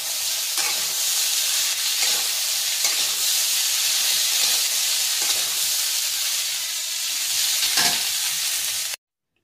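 Ingredients for a prawn curry sizzle and fry steadily in a pan while being stirred, a dense, continuous hiss with periodic stirring scrapes, close and alone until it cuts off at the end.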